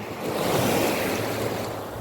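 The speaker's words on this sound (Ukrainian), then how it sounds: "Сьогодні ми будемо слухати моря, милуватися його хвилями." Sea waves roll and wash in steadily on a summer seashore, a broad continuous surf roar with some wind, fairly loud and close, with no voices.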